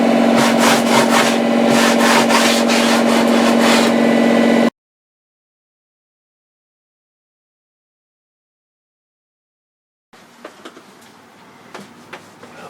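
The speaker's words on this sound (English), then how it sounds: "You're sanding, right?" Rhythmic scraping strokes of sanding on an old steel sailboat, loud and close, then a long silence before fainter rubbing and light knocks return.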